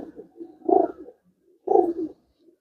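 Pigeons cooing in a home loft cage, two soft, low throaty coos about a second apart, close and otherwise quiet.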